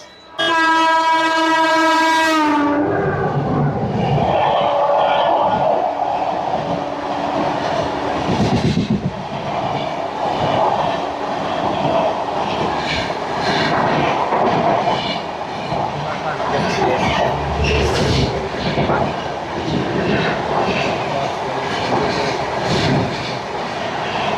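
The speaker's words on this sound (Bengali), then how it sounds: "আর ওদিক থেকে মেদিনীপুর লোকাল এগিয়ে চলেছে হাওড়া জংশনের উদ্দেশ্যে।" A Medinipur local train heading toward Howrah junction sounds a loud horn blast, then rumbles past close by with a continuous roar and clatter of wagons, while a voice talks over it.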